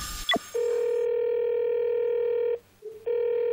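A telephone call tone plays as a number is dialed: a short rising blip, then a steady electronic tone that pauses briefly and resumes, clear and close with no talk.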